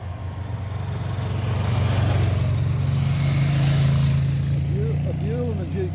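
Motorcycles, a Buell and a Ducati, passing on a windy road, an engine roar swelling to a peak mid-clip and fading, with a person talking over it near the end.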